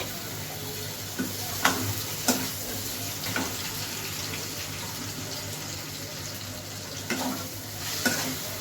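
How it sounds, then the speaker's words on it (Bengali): Chopped tomato frying with golden-browned onions in oil for chicken kosha makes a constant close sizzle, broken by intermittent scraping strokes of a spoon against the pan. "টমেটোটা ততক্ষণ ফ্রাই করবেন যতক্ষণ না এতে তেল ছেড়ে দেয়"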